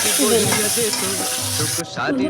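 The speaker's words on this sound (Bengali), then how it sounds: "বেগুনগুলোকে ভেজে নেব হালকা করে আমি ভেজে নেব বেগুনগুলো" Lightly salted eggplant slices fry gently in hot oil, a dense, close sizzle with bubbling crackles that briefly dips near the end before picking up again; no one speaks.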